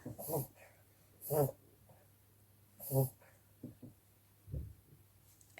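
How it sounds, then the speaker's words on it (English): A pet dog wheezes in short, snorting bursts, four or five raspy fits spaced a second or so apart, close and fairly quiet over a faint background hum. "My dog is wheezing."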